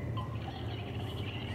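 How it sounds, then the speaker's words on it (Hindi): Faint recorded sparrows, mynas and doves chirp and call from an electronic baby cradle over a steady low hum of background noise, with small scattered tweets throughout. "ये छोटी छोटी चुड़िया और मैनाओं और फाकतों की आवाज़ें आ रही हैं"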